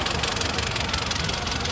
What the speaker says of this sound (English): Again, single cylinder engine.